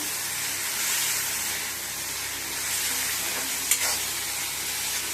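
Bitter gourd sautés in oil in a pan for Nellore pavakkai pachadi, giving a steady close sizzle with one brief stir of the spoon partway through.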